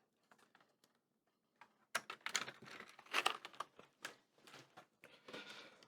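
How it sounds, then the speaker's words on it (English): Quick bursts of keyboard typing, close up, starting with a few scattered key taps and then building into steady, rapid clicking with short pauses. "typing on the keyboard works just fine."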